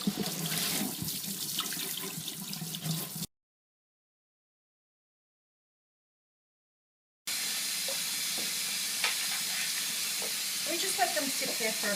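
Tap water runs steadily over aquarium plants and driftwood being rinsed in a sink, broken by a silent gap midway before the flow resumes, close and fairly loud.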